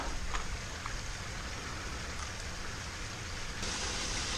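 Water rushes out of an overflowing pond, a continuous broadband wash of flowing water heard close and fairly loud, with no talk over it.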